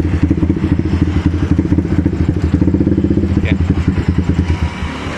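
A Yamaha Vixion motorcycle engine, with its timing just reassembled, runs steadily up close with a rapid, even chugging pulse that holds for the full stretch, with a brief clink partway through.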